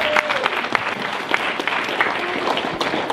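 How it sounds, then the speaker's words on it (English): An audience claps during a church stage performance of the Story of Esther: dense, steady applause of many hands, loud and close, lasting the whole stretch with no talk over it. "Give her a clap."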